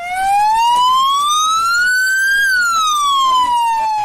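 Emergency siren from fire and ambulance crews at a fire at a sports facility, a loud near wail rising slowly then falling, heard alone with no talk.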